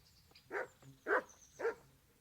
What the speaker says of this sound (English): What's that dog you have here?